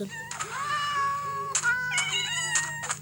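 Several drawn-out synthetic cat meows from Minecraft in a row, clear and close, with a low steady hum underneath.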